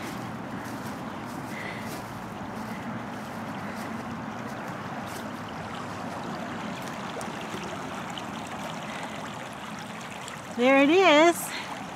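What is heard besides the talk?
creek water flowing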